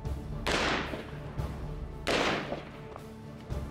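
Two loud, sharp gunshots of .308 Winchester (7.62x51 NATO) ball ammunition fired at ceramic ballistic armor plates outdoors, each blast followed by a decaying echo, with smaller impact noises in between.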